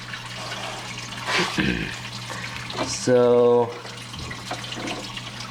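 Water flows steadily through the sump of a reef-ready 75-gallon aquarium, entering from the overflow and leaving by the return nozzle, with a continuous close rushing trickle under a man's speech.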